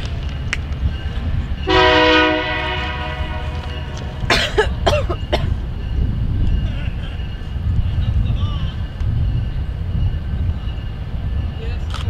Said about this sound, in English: it's a people train